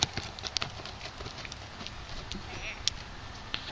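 Horse hooves clip-clop at a walk under a rider in a riding arena, a steady close rhythm of soft thuds with occasional sharper strikes, while an instructor's voice talks over it.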